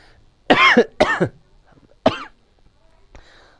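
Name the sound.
cough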